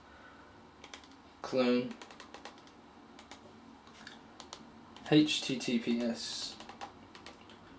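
Keys clacking on a computer keyboard as a git clone command is entered, two short bursts of quick keystrokes separated by quiet gaps, close and fairly soft, with faint talk in the background.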